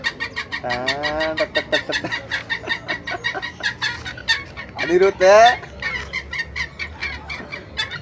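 Several chickens cluck in quick, steady bursts up close at a park in Yercaud, India, with a couple of louder drawn-out squawking calls rising above the chatter.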